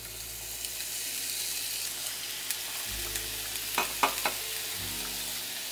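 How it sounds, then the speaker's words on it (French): Small cutlets fry in olive oil in a hot pan, giving a steady sizzling hiss with a few louder crackles and pops toward the end, heard close and alone without voices. "Là, je fais chauffer ma poêle, puis je vais mettre un peu d'huile d'olive. Et on va faire cuire ça, ces petites côtelettes-là."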